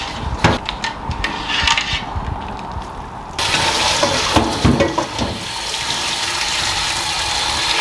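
Cold tap water pours over freshly boiled cannelloni pasta in a kitchen sink, a steady close splashing that gets louder and fuller partway through, with a few clatters at the start.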